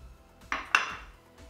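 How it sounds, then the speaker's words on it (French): Spatula scraping and knocking against a bowl while egg yolks are mixed into melted chocolate: two sharp clinks close together, then quiet, with no talking. "on va mélanger le tout avec une spatule jusqu'à obtenir, si on peut dire, une consistance homogène"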